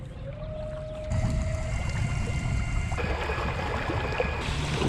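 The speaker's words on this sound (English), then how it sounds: "should we test the motor next?" Electric motor of a Native Watercraft Slayer Max 10 fishing kayak runs with a faint whine that rises in pitch and then changes, over low water and hull noise.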